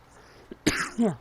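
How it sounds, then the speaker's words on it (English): A single close cough followed by a short throat-clearing rasp, brief and fairly loud against a quiet room. "Oh, I need to cough."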